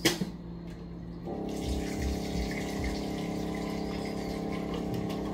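Water runs steadily into a container for several seconds, a continuous rushing gush laid over a motor-like pump hum, close by with no talking.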